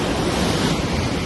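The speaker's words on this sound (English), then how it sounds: "Waves are still crashing in." Ocean waves crash onto a beach in southern Spain within sight of Gibraltar, a loud continuous roar of surf with wind buffeting the microphone and no voices.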